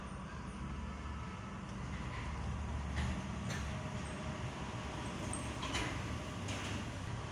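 Cars and buses rush past on a road lined with flower gardens, blending into a steady, loud traffic roar with a few sharper whooshes as vehicles go by close.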